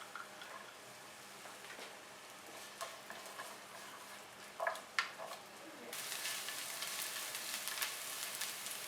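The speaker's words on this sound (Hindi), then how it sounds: "पैन में डालेंगे 1 टेबलस्पून ऑयल और एक छोटी चॉप प्याज। प्याज को सिर्फ 2 मिनट के लिए सॉफ्ट करेंगे।" Chopped onion softens in a tablespoon of oil in a pan, giving a steady quiet sizzle with a few stirring clicks and scrapes before the frying hiss swells brighter and louder toward the end; close, with no talking.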